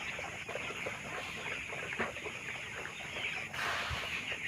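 Broiler chickens on a farm after days of rain, heard as faint, scattered clucks and small calls over a steady background hum, with occasional short coughs from the flock.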